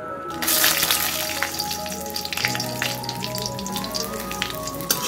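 Dried red chillies drop into hot oil for a tempering and set off a sudden burst of loud sizzling, which settles into a steady crackle close by.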